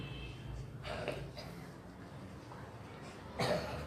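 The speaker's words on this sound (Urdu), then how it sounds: "آپ کو کھانسی کیوں؟" Two muffled coughs a couple of seconds apart, faint and somewhat distant over a low background hum.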